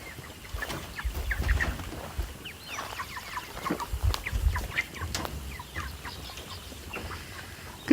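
A flock of chicks about 39 days old clucks and cheeps nearby in warm weather: many short, overlapping calls at varying loudness over a low background rumble, with no speech.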